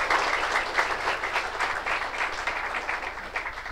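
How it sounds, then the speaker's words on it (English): Audience applause rings out at a vocal concert for a singing teacher, a dense, steady clapping that holds at full strength throughout without fading. "Let us give her a round of applause."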